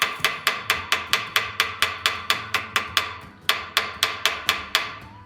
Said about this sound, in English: and then just very many small hammer blows